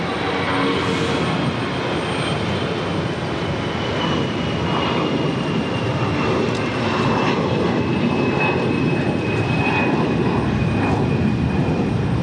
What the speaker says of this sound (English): This is Delta Airlines 303 taking off to Dallas Fort Worth on an A319.